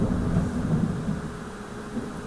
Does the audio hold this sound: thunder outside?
yes